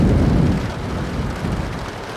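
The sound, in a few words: heavy rain and thunder outside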